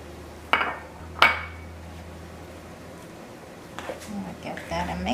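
A fork mixes lamb curry filling in a bowl: two sharp metallic clinks against the bowl early on, then softer scraping and tapping, close and fairly quiet.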